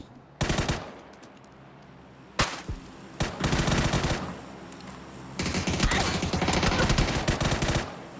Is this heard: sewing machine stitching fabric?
no